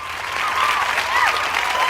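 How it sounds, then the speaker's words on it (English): An awards-night audience gives itself a round of applause, a loud, dense wash of clapping and crowd noise with a faint whistle-like tone riding over it. "you all deserve another round of applause too"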